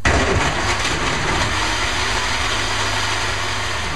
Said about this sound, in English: Okay, the blender's on